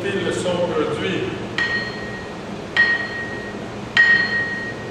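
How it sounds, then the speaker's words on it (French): A bench-grinder wheel is lightly tapped with a hard wooden or plastic screwdriver handle to test its resonance: three separate sharp taps, each followed by a clear, sustained ringing tone, with faint background noise between strikes. "à l'aide d'un deuxième tournevis à manche en bois dur ou en plastique dur, on va légèrement taper la meule et écouter le son produit"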